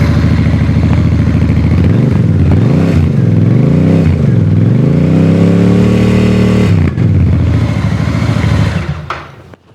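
A Royal Enfield Bear 650 motorcycle exhaust revs loudly and close up, several sharp rises and falls in engine pitch, then a long sustained high rev before dropping back toward idle, with no talk over it.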